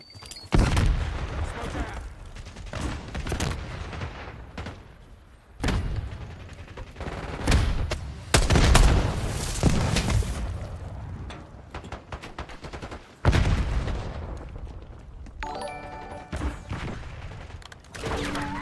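In a shooter video game, a Semtex grenade explodes and gunfire breaks out in loud, close bursts. Sharp blasts and rattling shots come in clusters, with quieter gaps between them.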